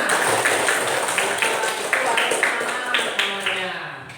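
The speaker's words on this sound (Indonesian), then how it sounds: "Ya kurang keras tepuk tangannya" Students in a classroom applauding, a dense wash of many hands clapping steadily throughout, fairly loud and close, with a few sharper claps standing out.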